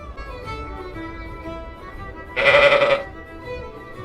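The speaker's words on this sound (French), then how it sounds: "les seuls habitants de ce village sont des moutons." A sheep gives one loud, fairly close bleat lasting about half a second in an abandoned village on Achill Island, Ireland, over a low steady background rumble.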